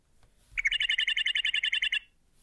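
Meadowlark call: a rapid, even series of about fifteen bright chirps lasting around a second and a half, heard alone against near silence.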